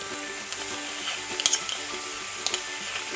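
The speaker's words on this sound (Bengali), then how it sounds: "আমি সামান্য কষিয়ে নিয়েছি, এবার আমি দিয়ে দেব পোস্ত বাটা।" Banana flower stir-fried with poppy seed paste in a pan, a steady close sizzle with a few light clinks of a spatula against the metal.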